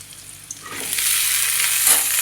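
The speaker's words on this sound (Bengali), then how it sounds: "পেঁয়াজ ভাজি, পেঁয়াজ দিয়ে ভেন্ডি দিয়ে সর্ষে পোস্ত বাটা করবো।" Onion and okra fry in a hot pan with a sizzling hiss that rises after a quiet start and then holds steady and fairly loud, with a few light stirring clicks.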